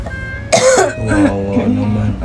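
A single sharp cough or throat-clearing bursts out, followed by a strained vocal sound and a few more rough throat noises, close and fairly loud.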